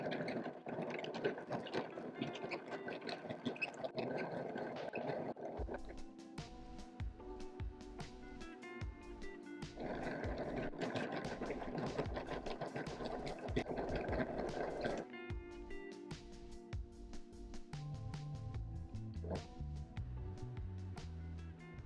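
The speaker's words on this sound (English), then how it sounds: "Introducing Baby Cakes, my yarn winder." Yarn winder turning to wind yarn, a whirring mechanical spin with ratcheting clicks, fading in and out in stretches over a background of other noise, quiet overall.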